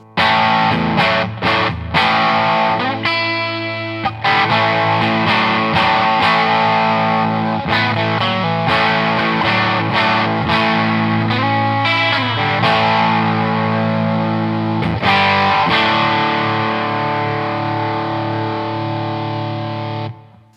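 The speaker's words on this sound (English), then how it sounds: "So to my ears it sounds like a transistor styled overdrive." An electric guitar on its bridge pickup plays through a transistor-style overdrive pedal, strummed chords and single notes ringing with crunchy distortion, loud and close with brief pauses between phrases.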